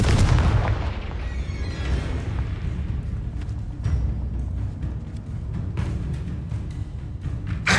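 In the Hogwarts Legacy video game, the Confringo blasting spell explodes with a heavy booming burst, followed by rumbling low blasts and crackling debris that continue loudly throughout.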